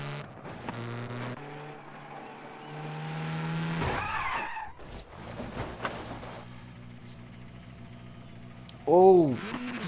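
A car crashing and skidding in the AC Rally video game, with a steady engine drone broken by sharp tire squeals and rising-and-falling skid tones, a loud burst near the end.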